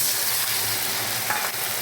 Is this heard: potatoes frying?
yes